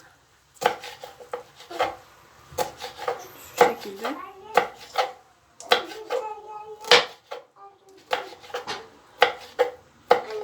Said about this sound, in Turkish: Şimdi biberlerimi elimden geldiğince ince doğrayacağım ben.